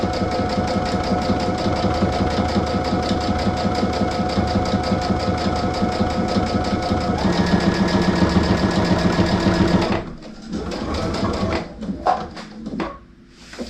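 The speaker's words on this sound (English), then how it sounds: "And I just keep my fabric on 1/4 inch and it's still sewing way closer to the edge." Sewing machine stitching fabric for a placemat, a steady loud mechanical whir with a fast stitching rhythm running for about ten seconds before it stops, then a few scattered clunks and handling sounds.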